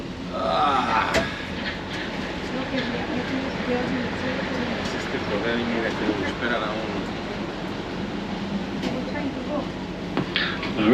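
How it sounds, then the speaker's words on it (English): A Magic Kingdom parking lot tram approaches with a steady, broad rumble that stays constant throughout, while a voice makes announcements over it and people nearby talk. "Alright, the next tram is approaching,"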